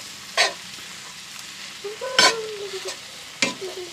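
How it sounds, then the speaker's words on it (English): Venison bacon sloppy joe meat sizzles in a pan, with a steady frying hiss broken by a few sharp spatula scrapes and stirring clatters spaced over several seconds. "Stir that around"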